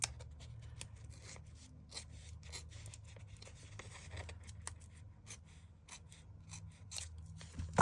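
Scissors trim the edge of a book page, giving a series of soft, close snips and paper rustles spread irregularly over a low background hum, with no talking.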